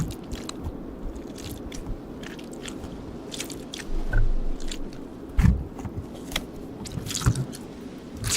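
A squishy toy that holds air is squeezed repeatedly up close, giving soft wet squelches, crackles and clicky bursts in an irregular rhythm, with no talking.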